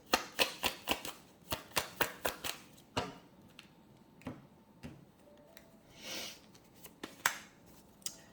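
Tarot cards being shuffled and drawn, with a quick run of close, crisp riffling snaps followed by sparser taps and slides of single cards.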